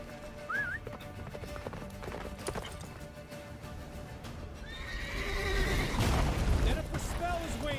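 Roach the horse from The Witcher 3 whinnies in a short rising call, then hooves clip-clop quicker into a gallop. The game's score plays and a voice speaks over the sound.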